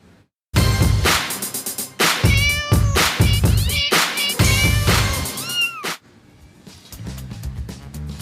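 A cartoonish cat meows repeatedly as a mascot sound effect for a Brazilian football segment, loud sliding meows over a musical jingle before a quieter musical tail.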